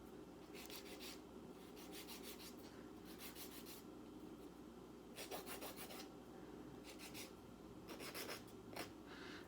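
A nail file rasps back and forth over acrylic nails in quick bursts of close, scratchy strokes with short pauses between them, and no talking.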